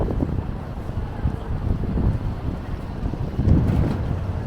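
Gusty wind buffets the microphone on 42nd Street near Times Square on an overcast afternoon, a steady low roar with a stronger gust near the end.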